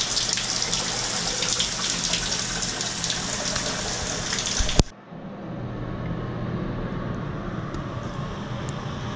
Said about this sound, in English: Shower's working.